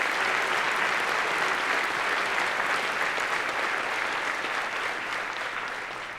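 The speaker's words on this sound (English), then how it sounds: "Could we give our National Headquarters staff and Board of Directors a round of applause to show our appreciation?" Audience members at a veterans' student organization's national conference give a sustained round of applause, a thick, loud roar of clapping that slowly eases off toward the end.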